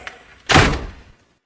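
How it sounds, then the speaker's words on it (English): A door swings open with a single heavy thunk and a short rattling rush that fades within a second, close by in a quiet room. "The door opened and Belinda came in with the tea."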